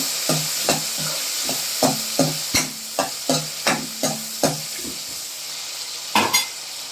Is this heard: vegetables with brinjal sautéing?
yes